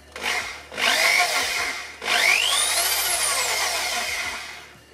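Corded hammer drill run in hammer mode, two bursts of whirring motor with a rising and falling pitch as it spins up and winds down, close and loud with a short pause between.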